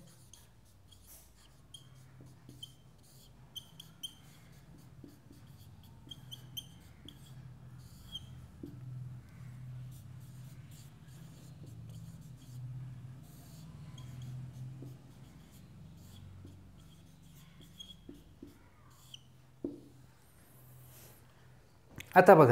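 A pen writes an address on paper for a Marathi letter, a soft continuous scratching that runs beneath steady speech, with a louder rustle at the very end.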